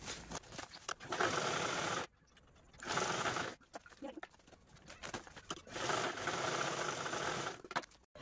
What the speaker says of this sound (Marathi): सर्वात अगोदर आपण खालचे 2 पार्ट स्टिच करून घेऊ